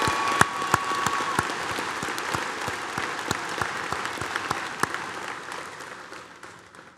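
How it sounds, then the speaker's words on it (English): A graduation crowd at Penfield High School's Class of 2023 ceremony applauds the students, a broad wash of clapping with distinct sharp claps punctuating it, gradually fading toward the end. "give these students another round of applause"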